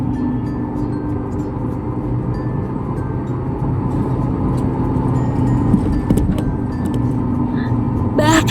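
Car driving on a main road, a steady loud interior rumble of engine and tyres with road noise building slightly toward the end, with a few faint knocks and clicks.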